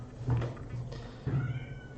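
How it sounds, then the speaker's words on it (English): A cat meows twice, fairly close, with a short pause between the calls and a quiet room around it. "My cat is meowing at the door to get into here"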